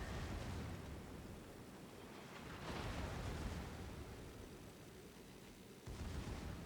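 High-explosive shells from a Conqueror battleship firing in World of Warships, heard as a dense, continuous roar of rumbling blasts and booms with louder swells, no talk over it.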